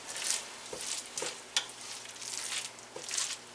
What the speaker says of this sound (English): You can hear it kind of sizzling, which is good.